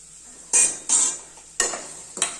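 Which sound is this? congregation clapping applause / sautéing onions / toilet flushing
sautéing onions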